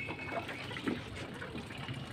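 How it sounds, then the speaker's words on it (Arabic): Water running and trickling into containers for pigeons on a rooftop, a soft, steady low splashing with no speech. "طلعوا بيملوا مية"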